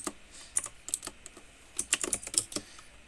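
Computer keyboard keys tapped to enter a chmod command in a Linux terminal, giving quick, close, irregular clicks in short bursts with a brief pause in the middle.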